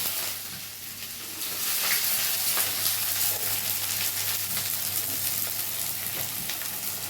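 Chopped onions fry in hot oil in a pan on a gas flame, giving a loud, close, continuous hiss and crackle that swells after a brief quieter start, with light stirring.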